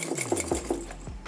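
Small Chloe Faye backpack jostled so its extra straps and metal hardware rattle, a few close, quick clinking jingles in an uneven rhythm.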